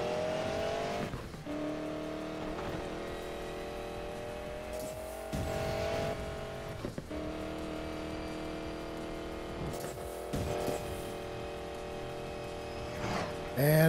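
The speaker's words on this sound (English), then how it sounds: "And another e-brake curve." A car in the racing game Need for Speed Payback drifts through a curve on the e-brake, its engine droning steadily with tire squeal and brief revs over a continuous game soundtrack.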